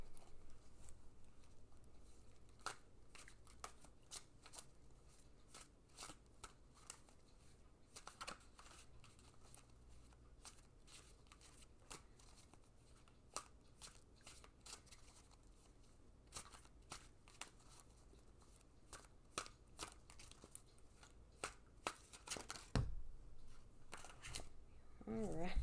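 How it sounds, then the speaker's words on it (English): Tarot cards are shuffled by hand in a quiet room, with repeated crisp riffles and soft slapping bursts spread through the whole stretch, close and fairly faint, and a few soft thumps near the end. "I will go quiet while I shuffle the cards"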